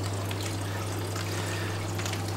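Water pours and trickles steadily as seahorses are tipped from a container straight into an aquarium tank, a continuous close splashing flow over a constant low pump hum.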